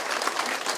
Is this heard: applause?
yes